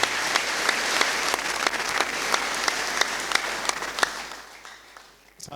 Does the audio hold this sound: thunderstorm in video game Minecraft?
no